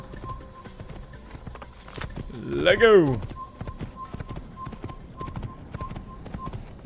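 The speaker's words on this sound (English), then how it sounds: "Let me get off the horse" Horse hooves clip-clop in Assassin's Creed gameplay, a steady light patter running under a brief spoken line, with a louder whinny-like burst near the middle and game ambience behind.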